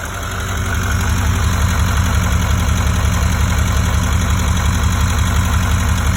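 A 2019 Chevrolet Silverado 3500 HD with its 6.6-liter diesel engine idles steadily, a close, loud and even rumble with a ticking diesel clatter that holds without pause.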